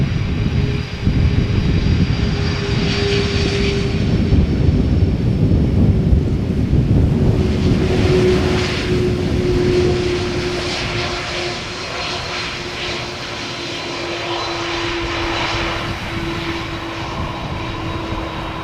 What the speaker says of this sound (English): That wasn't the softest of landings, let me rephrase it.